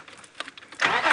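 A car engine cranks with a few uneven bursts, then catches and roars into life near the end, loud and close, with no talk over it.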